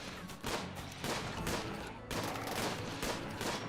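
Turrets in the Water World video game fire in rapid bursts, a dense rattling fusillade broken by short pauses, steady and fairly loud with no talk over it.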